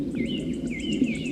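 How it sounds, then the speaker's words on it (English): A bee buzzing steadily and close throughout, a continuous droning hum with a slightly wavering pitch. "Bee."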